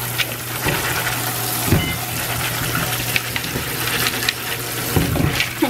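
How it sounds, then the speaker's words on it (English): Pumpkin seeds are rinsed under a running kitchen sink tap, giving a steady close water rush with occasional splashes and handling noises. "I'm just gonna come over here and rinse these seeds in the sink"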